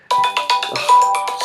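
A phone ringtone sounds on a mom's phone for an incoming video call, a loud, close, rapid pulsing electronic ring repeating in quick bursts with no talking.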